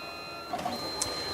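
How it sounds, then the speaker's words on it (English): A Mitsubishi Easy Photo K60 photo printer runs off a 6x8 print with a steady, quiet mechanical whir, a few faint clicks and a brief high chirp near the end. "It's now printing our 6x8."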